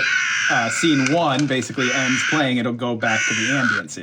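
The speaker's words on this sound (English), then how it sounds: "That way we don't have to listen to the crows squawking." Crows cawing loudly from the speaker of a Halloween prop controller, harsh repeated caws filling the clip while someone talks over them.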